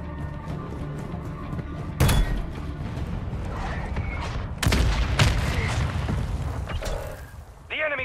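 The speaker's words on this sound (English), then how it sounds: "Our mortar strike is inbound." Mortar strike explosions in Modern Warfare 2 Hardpoint, heavy booms landing around 2 and 4.6 seconds amid continuous gunfire and battlefield noise, loud and close, with radio-style voice chatter underneath.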